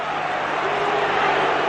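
A football stadium crowd at a 1994 Premier League match between Newcastle and Chelsea swells into a loud, sustained roar of cheers and jeers after a player slips.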